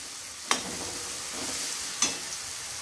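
A steady, quiet sizzle of onions sautéing with salt in oil in a pan, with two sharp scrapes from a stirring utensil a couple of seconds apart.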